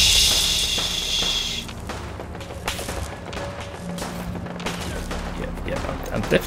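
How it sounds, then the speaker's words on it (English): Gunfire in Fallout 4: a burst of rapid shots followed by scattered cracks and thumps at mid distance, mixed with game sounds and a player talking over the action. "I'm definitely taking shots"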